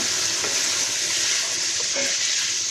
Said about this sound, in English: I'm going to give that a stir.